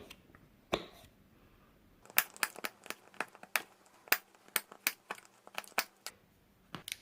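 A knife cuts a Cadbury Dairy Milk Caramel Nibbles bar into pieces, a quiet series of sharp crisp snaps and taps coming in an irregular run after a short pause, close and alone.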